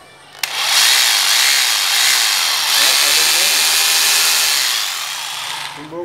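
A cordless hammer drill runs in strong hammer mode, a loud harsh rattling whine lasting about five seconds, with a voice talking faintly underneath.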